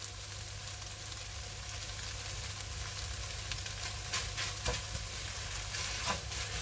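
Rice noodles for pad thai hiss and sizzle steadily in a hot pan with dark soy sauce and Thai sweet chilli, with a constant bright crackle and a few sharper spits and scrapes near the end.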